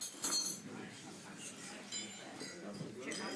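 Glasses clink faintly a few times during a toast to absent friends, the light taps partly buried under murmuring voices of a gathered group.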